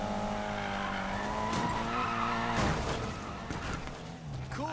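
Car drifting in an Xbox One racing game, with loud tire squeal and skidding over a revving engine, squeals sweeping up and down across several seconds, close and continuous.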